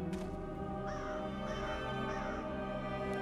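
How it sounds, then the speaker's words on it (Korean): Three evenly spaced crow caws sound over a constant musical drone in a cemetery horror video game, each call moderately loud and distinct. "까마귀가?"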